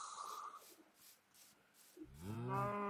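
Cows lowing in the Minecraft video game, one low drawn-out moo rising near the end after quieter scattered animal sounds, heard alone with no talk.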